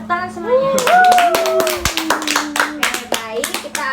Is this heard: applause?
yes